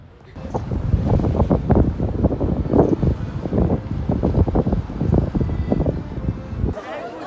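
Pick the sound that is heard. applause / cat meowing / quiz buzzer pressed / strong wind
strong wind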